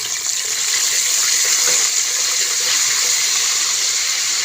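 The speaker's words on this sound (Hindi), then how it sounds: "इस पॉइंट पर हम इसमें थोड़ा सा पानी ऐड करेंगे" Water pours steadily into a pan of frying chilli during the cooking of Lahori chickpeas, making a loud, continuous hiss and splash that lasts the whole moment, with no voices.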